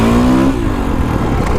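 A Kawasaki KX450X dirt bike engine revs hard as it climbs a steep hill, a loud, close, rising drone that drops in pitch halfway through and carries on in a rough, steady roar.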